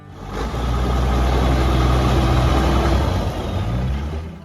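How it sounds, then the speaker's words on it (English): A JI Case 2290 tractor's 504 cubic inch diesel engine rumbles deep and steady at close range, holding a constant low drone throughout with no talk over it. "there's this deep, steady rumble from the 504 cubic inch case diesel"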